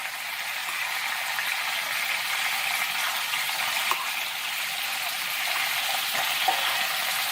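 Shrimp cook in shrimp sauce in a hot pan, giving a steady close sizzle and bubbling hiss with a few faint clicks of stirring and no voices.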